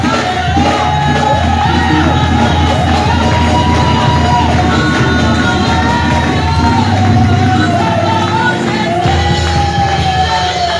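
A church congregation on its feet cheering, shouting and acclaiming the Lord, a dense continuous crowd roar with whoops and voices rising and falling at close range for the whole stretch.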